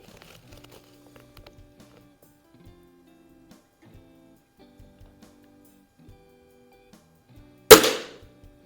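A single sharp crack from a Cometa 300 Premier .177 break barrel air rifle firing a pellet rings out near the end, close and loud after quiet faint clicks and handling sounds.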